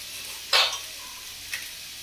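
Kebab masala is stirred into a frying biryani mixture, with two short scraping stirs of a spoon in the pan, the first louder, over a faint background sizzle.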